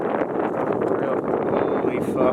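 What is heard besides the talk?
strong wind on a mountain trail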